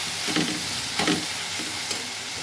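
Chili powder stirred into a frying tomato curry, a steady sizzle broken by a few scraping strokes of a spoon through the thick mixture, close and alone.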